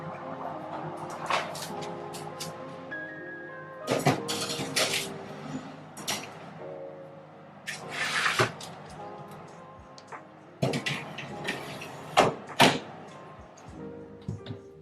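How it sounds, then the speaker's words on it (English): A caramel meringue dessert going into a hot home oven: clattering pans and trays, metallic knocks and a door-like thud and slide, in irregular bursts in a quiet kitchen. "So let me put it now to the oven."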